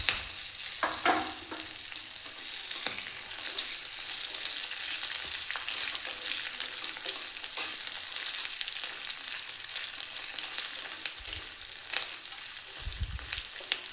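Coconut pieces fry in hot oil in a tempering for khara pongal, giving a steady sizzle that runs without break, with a few light stirring knocks near the end.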